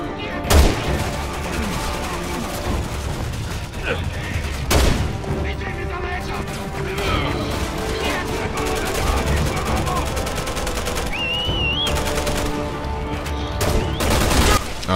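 Sniper fire in the video game Resident Evil 6 rings out in a few sharp, loud cracks over steady gunfire, explosions and game music, with voices talking through it.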